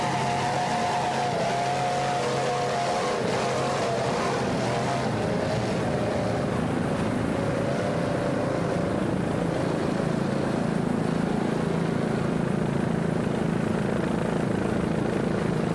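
A 36-foot Cigarette powerboat with two 500 hp Mercury engines racing, a continuous loud roaring drone with a slowly shifting engine pitch, heavy wind and water noise, no voices.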